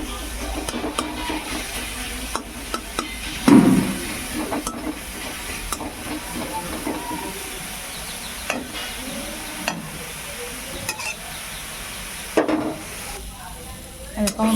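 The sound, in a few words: leafy greens (saag) sizzling as they are stirred and fried in a pan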